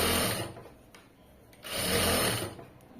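A sewing machine stitches cloth in two loud, even runs, each about a second long, separated by a quieter pause as the fabric is opened out and repositioned.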